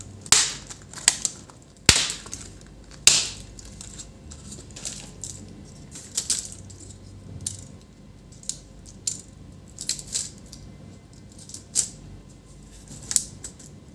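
Plastic clips snapping free as the keyboard of an HP ProBook 450 G8 laptop is pried loose, a series of sharp, close clicks and cracks spaced irregularly over quiet handling noise.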